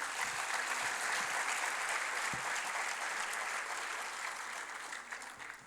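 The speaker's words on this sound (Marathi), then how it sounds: "एक जर जोरदार टाळ्या होऊन द्या सर्वांसाठी." Loud, sustained applause from an audience at a corporate presenters' event in Nashik, a dense wash of clapping that holds steady and then slowly fades toward the end.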